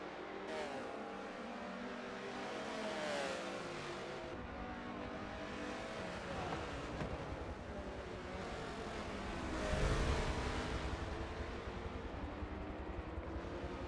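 Race cars accelerating hard through the S's esses section at Road Atlanta during a GT World Challenge race, engines roaring continuously with rising and falling revs as cars pass, loudest near the ten-second mark.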